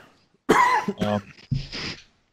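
A single loud cough bursts out close to the mic, followed by a short throat-clearing cough after a brief pause, with silence on either side.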